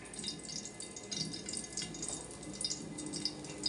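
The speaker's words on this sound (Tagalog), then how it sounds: "Tulo-tulo ang mantika." Cooking oil drips and sizzles off freshly fried fish, a dense, continuous crackling patter close by with no talk.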